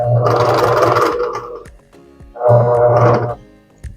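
Sewing machine stitching lace onto a mantilla veil, with two close, loud bursts of rapid mechanical whirring separated by a short pause and a small click at the end.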